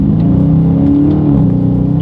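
A 2021 Dodge Charger Scat Pack accelerates hard through its gears with paddle shifters, its engine a loud, close, continuous roar with pitch shifts at each shift.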